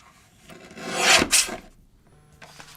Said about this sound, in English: I'm going to get one more white piece of cardstock, and I'm going to just trim this down to 5 1/2 inches